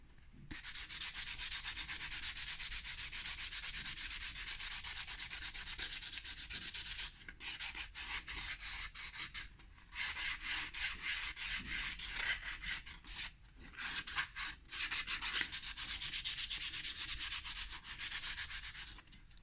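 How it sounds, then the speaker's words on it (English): Steady scratchy rubbing of sandpaper on plywood by hand, continuous strokes with a few short pauses, close and fairly loud. "we'll have a look at how it looks after about 5 minutes of sanding"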